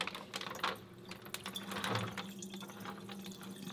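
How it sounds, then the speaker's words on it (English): Water draining from a fish container into a kitchen sink, a soft low trickle and gurgle with faint clicks, close and fairly quiet, with no voice over it. "All I gotta do right now is drain out this water."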